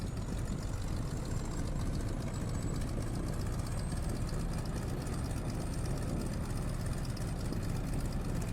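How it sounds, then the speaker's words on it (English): Stearman PT-17 biplane radial engine idling at low RPM, heard from the cockpit in Microsoft Flight Simulator: a steady, dense low rumble throughout, constant in level with no voices. "Nice radial engine sound."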